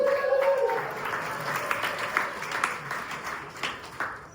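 A comedy club crowd at Bricktown Comedy Club in Oklahoma City bursts into applause for a comedian's mother, a steady wash of many hands clapping close and loud after a brief vocal cheer at the start.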